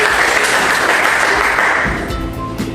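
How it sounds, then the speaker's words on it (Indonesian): Fifth-grade classroom students clap together in a short, steady burst that holds evenly, then thins slightly toward the end, close and fairly loud with no talk over it. "Beri tepuk tangan untuk dari ini."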